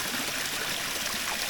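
Water rushing at a rural Jamaican waterhole with heavy pressure, a steady broadband splashing flow, close and continuous with no voices.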